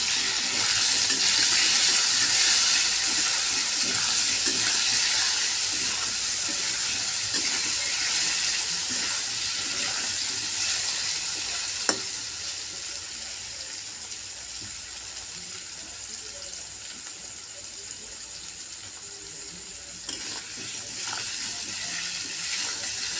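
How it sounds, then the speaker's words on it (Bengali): Turmeric- and salt-seasoned potatoes fry in a pan with a continuous hissing sizzle, loud at first and easing slightly over time, broken by a few brief clinks of stirring. "আলুটাকে ভালো করে লাল লাল করে ভেজে নেব।"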